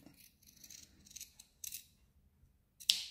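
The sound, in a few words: scissors cutting a rounded edge in fabric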